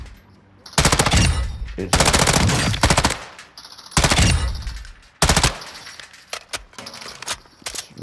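Suppressed M13 rifle in Call of Duty firing in several long automatic bursts, loud and close, with rapid clattering shots. Short pauses and a few scattered single shots fall between bursts, and a voice speaks briefly.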